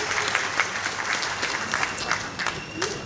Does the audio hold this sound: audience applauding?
yes